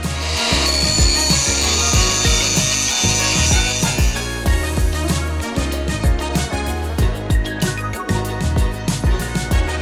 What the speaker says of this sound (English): we've got to grind part of this down so that when the belt runs, it actually runs and doesn't foul this